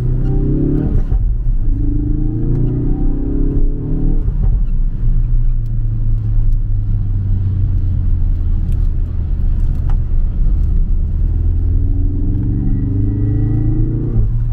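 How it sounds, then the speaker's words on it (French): A Citroën C6 engine rumbles and revs steadily, with a whooshing turbo note and recirculating dump valve rising and falling over the deep drone, continuous and close. "Putain, le bruit du turbo c'est impressionnant."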